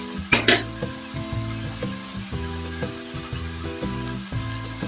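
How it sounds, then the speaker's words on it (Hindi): Ground spices, garam masala and coriander powder, fry steadily in a hot pan for dhaba-style chana dal, a dense continuous sizzle with a few sharp spatula clinks near the start and a low tonal hum underneath. "तो ये देखते हैं हमारे मसाले अच्छे से भून गए हैं"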